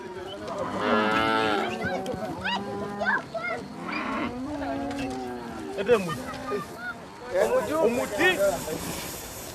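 Cattle mooing near and far in a Himba herd, several drawn-out calls overlapping one after another, with breathy hissing noises between them.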